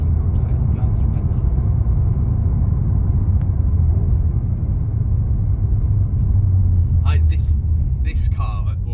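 VW Golf GTI Mk8.5 engine on a Lake District B-road, a steady low rumble heard from inside the car with a couple of brief surges near the end, under light cabin noise.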